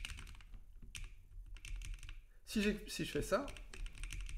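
Code being typed on a computer keyboard, a close, quick patter of key clicks running steadily, with someone talking over the later part.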